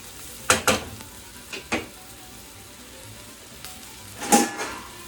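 Pasta being stirred through sizzling tomato sauce in a pan, with a few scraping strokes and a soft, steady frying hiss underneath, close and without talk.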